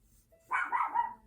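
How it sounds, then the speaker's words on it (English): A dog barks in the background in a short burst of several yapping barks, moderately loud against an otherwise quiet room. "Please excuse my dog barking in the background."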